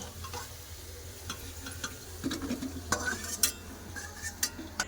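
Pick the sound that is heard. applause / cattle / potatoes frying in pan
potatoes frying in pan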